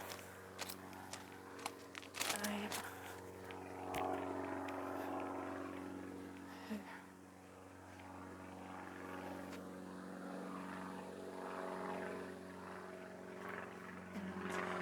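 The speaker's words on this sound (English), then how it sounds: "There is another plane." A small propeller plane drones overhead in Sainte-Scholastique, Quebec, its steady buzzing hum swelling and fading slightly, with a few clicks and knocks nearby.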